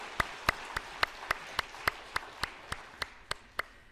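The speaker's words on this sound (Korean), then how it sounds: "우리 수고하신 분들을 위해서 박수 한번 하겠습니다." A church congregation claps in unison, about a dozen evenly spaced sharp claps at a steady rhythm in a quiet room.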